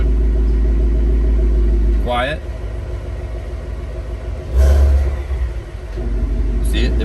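Ford Mustang GT with a Corsa cat-back active exhaust rumbles at a deep, steady idle with its valves in exhaust mode, briefly swelling louder midway, with people talking nearby.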